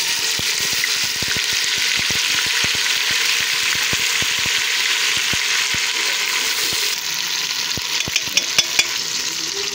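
Golden fried onions sizzle steadily in a pan with ginger, garlic and tomato paste added for nargisi egg kofta, a loud continuous fry crackle broken by frequent ticks of a stirring spoon, and no voices.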